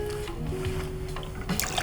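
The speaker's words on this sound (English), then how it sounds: "6 mils of simple syrup into the small shaker" Simple syrup trickles briefly and softly into a small cocktail shaker, a faint liquid pour with light drips.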